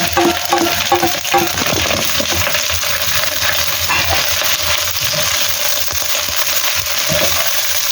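Cut chives hitting hot oil in a frying pan, a loud continuous sizzle with crackling bursts and some clinking at the start, steady and close with no talking.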